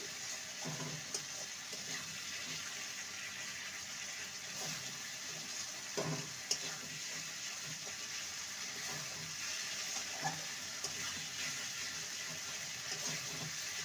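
Spice paste fries in oil for a cabbage dish, giving a continuous soft hissing sizzle with occasional faint clicks of a stirring spoon. The sound is moderately quiet and steady, with no talk.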